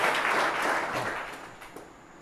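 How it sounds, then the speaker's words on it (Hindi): An audience welcoming a student onto the stage applauds in a loud, dense burst of clapping that gradually fades over a couple of seconds. "जोरदार तालियों के साथ कनिका का स्वागत करेंगे।"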